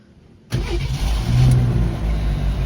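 An AMC SX/4 car engine cranks and catches after a quiet moment, then settles into a loud, close, rough running idle with slight rises in revs.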